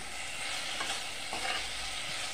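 Potatoes fry in hot oil with spices as they are stirred, a loud dense sizzle with scraping movements rising and falling, close up, with no talking.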